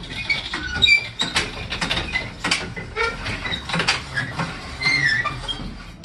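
A drywall ceiling panel lift has its cable cranked up, giving a close, irregular ratcheting and clicking with metallic rattles that continue for several seconds.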